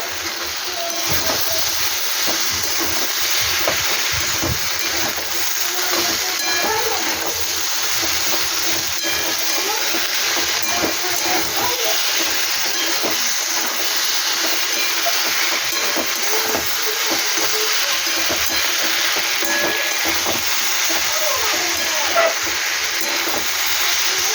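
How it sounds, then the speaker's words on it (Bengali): Mourala fish sizzle in a hot pan for a fish and eggplant dish while being stirred, a steady close hiss of frying with faint scraping and clatter running underneath. "এভাবে আমি ভালো করে মাছটাকে নেড়ে ফেলে নেব"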